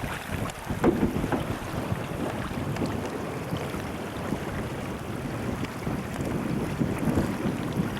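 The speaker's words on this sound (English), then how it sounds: "Now we're in the rapids." On the Klamath River, rapids rush and churn past a boat in a steady, close roar of turbulent water mixed with wind buffeting, without talk.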